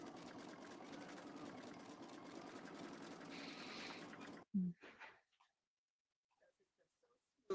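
Serger sewing machine stitching an embroidered pillow, a steady, fairly loud mechanical whir running continuously for about four seconds, then stopping abruptly, followed by a few short knocks and near silence.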